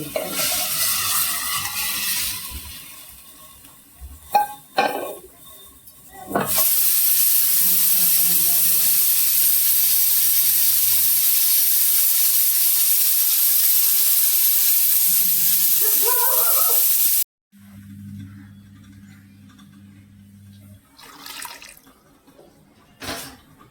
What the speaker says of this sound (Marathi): फोडणी